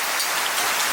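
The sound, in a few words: heavy rain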